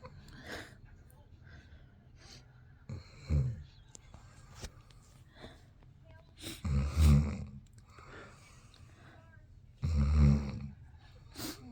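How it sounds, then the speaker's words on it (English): A dying pet snores heavily, with three loud rasping, snorting breaths spaced a few seconds apart and quiet stretches between them, close by. "His snoring's getting heavier now."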